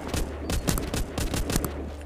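Rapid bursts of AKM rifle fire from the mobile zombie shooter The Walking Zombie 2, sharp repeated cracks spaced unevenly across two seconds, loud and close with no talk.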